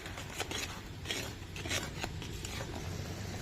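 A spoon scrapes and rasps through spice masala with turmeric frying in a pan, giving repeated close scratching strokes over a low sizzling bed, with no voices.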